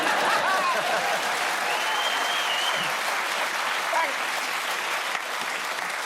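A studio audience at a comedy panel show claps steadily. The dense, even applause holds at the same level for several seconds, and faint voices sit beneath it.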